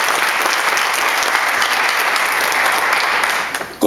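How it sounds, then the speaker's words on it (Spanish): A church congregation applauding steadily, a thick continuous wash of many hands clapping that holds for several seconds and thins at the end. "Denle un aplauso al Señor, gloria a Dios."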